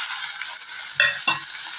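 Tomato goes into a frying pan for a Tamil country-chicken curry, with a steady frying hiss and two close, quick scrapes and clatters of stirring breaking through it.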